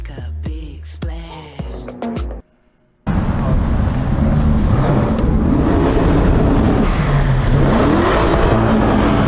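Lamborghini Urus engine roars loudly and steadily after a brief silence, a sustained close revving drone filling the rest of the clip, preceded by a short burst of music.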